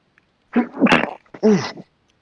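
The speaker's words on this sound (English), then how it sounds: "it was a good sneeze" A sneeze bursts out close and loud in a quiet room during a tabletop game session, a sharp intake followed by a strong explosive release and a second shorter burst, with silence on either side.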